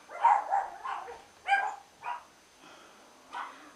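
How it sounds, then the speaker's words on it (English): Several dogs bark in short, uneven bursts indoors, with a few sharp yips and a lull between volleys; the barking is moderately loud and carries on alone without talk. "there go my dogs"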